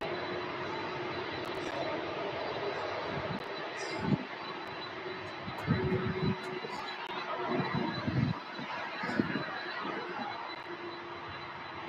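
UPS cargo plane, flight 5152 bound for Pittsburgh, rolling down the runway at Louisville airport: a steady, distant jet engine roar holding throughout, with a few louder low swells partway through.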